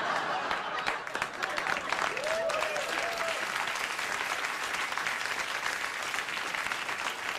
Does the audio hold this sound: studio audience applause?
yes